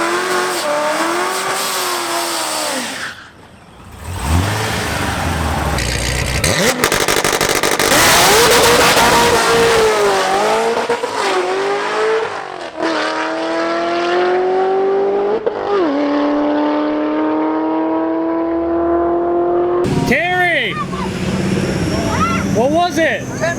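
A twin-turbo Chevrolet Malibu making about 1,000 wheel horsepower revs very loudly and close, its engine note repeatedly climbing and falling through hard, sustained pulls with brief drops in between.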